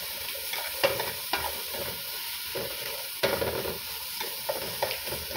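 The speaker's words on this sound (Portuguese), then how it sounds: "Vou estar adicionando alho e cebola." Garlic and onion frying in a pan for potato and calabresa soup, a steady sizzle with repeated close scrapes and knocks from stirring, one louder clatter near the middle.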